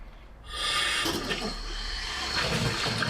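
Water rushes through a newly installed plumbing line in a bathroom remodel in an Arizona cabin, bursting on after a brief quiet and continuing as a steady close hiss.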